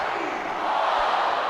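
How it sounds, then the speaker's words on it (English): Crowd noise at a women's rugby league international between the Australian Jillaroos and Fetu Samoa, a broad steady roar of many voices filling the stadium without a break. "Listen to this crowd."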